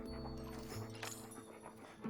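Tao, a dog in the video game Palia, sniffs and gives soft woofs and whimpering yips in a brief, close burst over a faint steady musical background.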